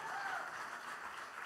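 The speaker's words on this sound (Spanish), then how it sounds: "Den un fuerte aplauso al Señor por eso." Church congregation applauding during a Spanish-language sermon, a steady dense wash of clapping filling the whole moment at moderate level, with no pause or break.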